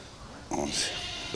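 Goats on a farm bleat once, briefly and moderately close, under a voice talking over the scene.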